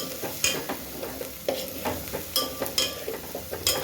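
Onion, tomato and masala frying together in a pan for a traditional Bhogi vegetable dish, a continuous low sizzle broken by repeated scraping stirs of a spoon against the pan at an uneven rhythm.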